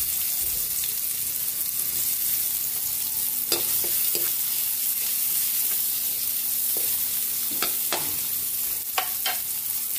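Garlic and onion sauté in oil in a pan with a steady close sizzle, broken by scattered scrapes and knocks of a spatula stirring, with no talk.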